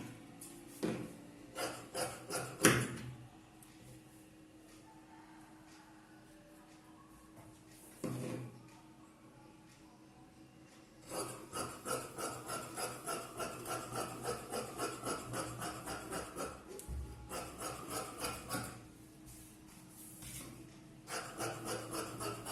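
Scissors cutting fabric for a chudithar top and pant, repeated rhythmic snipping and rasping strokes in bursts, with a long steady run of cuts in the second half, close and fairly quiet.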